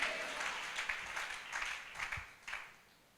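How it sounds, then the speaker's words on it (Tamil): A church congregation at Sunday worship claps hands together in a fairly soft, sustained round of applause that tapers off toward the end. "பலத்த கைகளை தட்டி என்ன விசுவாச கைத்தட்டு."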